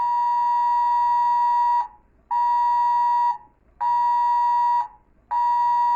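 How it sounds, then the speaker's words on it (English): A New Zealand government emergency alert tone sounds from a mobile phone: four loud, identical harsh beeps about 1.5 seconds each, separated by short gaps, with no talking. "when the government sends an emergency alert to your mobile phone about a lockdown, this is what it sounds like"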